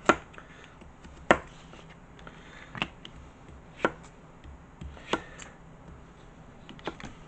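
A butternut squash being chopped with a dull knife on a board, sparse sharp knocks a second or so apart amid faint rustling, quiet and close.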